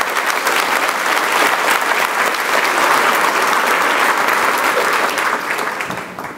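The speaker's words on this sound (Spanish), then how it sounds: "Denle un aplauso a Dios con todo su corazón" A church congregation applauding during a Spanish-language Wednesday service, dense sustained clapping from many hands that fills the room evenly before tapering slightly at the end.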